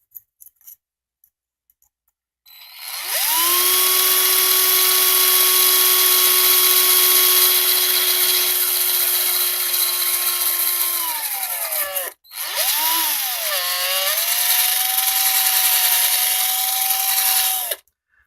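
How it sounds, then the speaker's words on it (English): A power drill bores holes through a short piece of copper pipe, running steadily at high pitch for about nine seconds, stopping briefly, then starting again for another five seconds, loud and close. "If those are marked, I can drill the holes."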